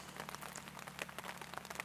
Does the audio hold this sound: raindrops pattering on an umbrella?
yes